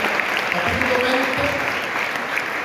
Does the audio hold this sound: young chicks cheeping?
no